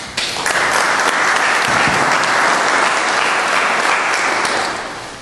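Sustained audience applause fills a room at a Republican candidate forum for Jacksonville, Florida City Council, At-Large Group 3, loud and steady for about five seconds before starting to fade.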